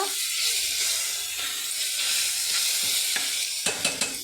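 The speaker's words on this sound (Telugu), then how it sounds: "ఇది కొంచెం ఫ్రై చేసుకోవాలి అల్లం పేస్ట్ చేసిన తర్వాత" Ginger paste fries in a pan for a mutton keema curry, giving a loud, steady hiss of sizzling with a few clinks of stirring near the end.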